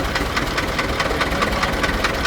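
An HMT 3511 tractor's diesel engine, started up and now running steadily close by, with a regular knocking beat repeating a few times per second and no voices.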